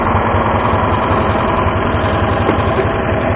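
A Cushman motor scooter engine runs steadily at idle with the clutch in, a close, loud, continuous mechanical chug with a rhythmic low-end pulse and no talking.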